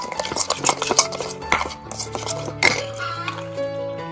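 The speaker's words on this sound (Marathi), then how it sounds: "व्यवस्थित हा मसाला मीठ आणि तेल एकदम मिक्स करायचं आहे." Red masala, salt and oil are stirred in a metal pot with a spoon, giving repeated clinks and scrapes in an uneven rhythm. Faint ringing tones from the pot run underneath.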